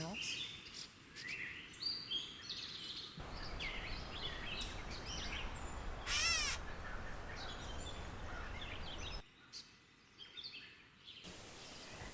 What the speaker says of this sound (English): Oops, we have quite a crowd at the bird bath now.